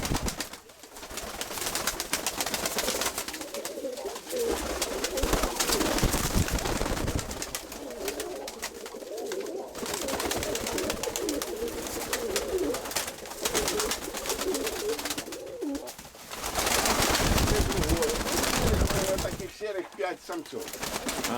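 Pigeons coo repeatedly in a dovecote, a low murmuring chorus that runs throughout, with people talking in between.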